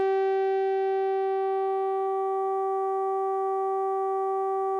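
A sustained tone from an iPad VCS3 synthesizer app with reverb holds one steady pitch with rich overtones, fading very slightly as it rings on, with no voices.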